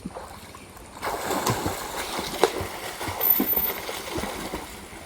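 A child swimming in a village stream, splashing and kicking water with irregular bursts of sloshing, moderately close and fairly soft.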